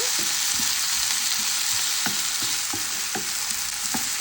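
Potato pieces for a spinach potato fry crackle loudly in a hot oiled pan, a dense close sizzle with regular spatula scrapes and knocks throughout, with no talking.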